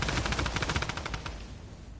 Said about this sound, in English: If there is people shooting nearby.